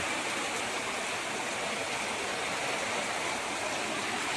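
Heavy downpour over Khalgram bazaar in Rajshahi, a dense, even rushing hiss of rain, steady and unbroken for the whole stretch, no voices.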